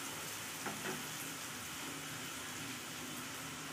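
Ginger-garlic paste, chilli and spices frying in a pan for an Odia steamed egg curry, a steady soft sizzle throughout with a couple of faint stirring scrapes, close and alone without talk.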